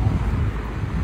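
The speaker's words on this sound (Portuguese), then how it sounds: "Tá ventando muito. Aqui é alto" Strong wind buffets the microphone on a high spot in Curitiba, a steady low rumbling roar that fills the whole moment with no clear voice over it.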